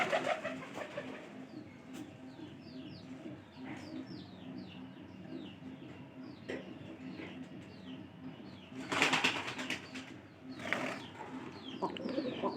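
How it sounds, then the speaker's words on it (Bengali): Pigeons of a Jalali-coloured pair in a loft, cooing in repeated soft rolling calls close by, with brief chirps and a couple of louder flutter-like bursts over a quiet background. "তো নতুন কবুতর হিসেবে আমার কিন্তু এই কবুতরটা ভালো হয়েছে।"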